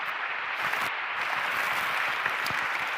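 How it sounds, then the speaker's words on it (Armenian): An audience at the opening of Armenia's first national youth assembly in Yerevan gives sustained applause, a steady wash of many hands clapping at moderate, even loudness without a break. "Եկեք ծափահարություններով սկսենք"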